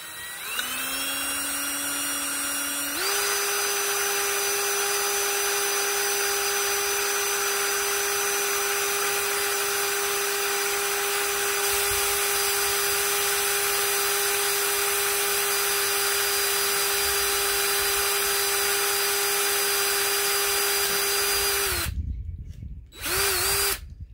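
A power drill whines steadily at high pitch for about twenty seconds, close and loud, drilling into a hard plastic plant pot, then sputters and stops in a few short bursts.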